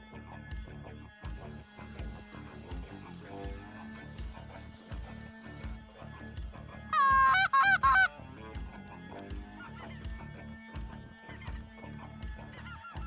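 A flock of snow geese honks loudly in a dense burst of overlapping calls for about a second near the middle, over steady rhythmic background noise in a hunting spread.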